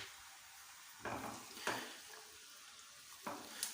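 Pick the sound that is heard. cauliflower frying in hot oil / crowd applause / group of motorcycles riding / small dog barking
cauliflower frying in hot oil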